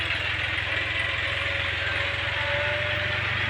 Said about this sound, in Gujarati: આ ટ્રેક્ટર જ છે